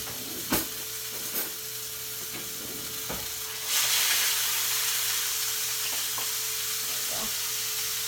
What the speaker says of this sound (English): Hold on, I've got to flip the sausage.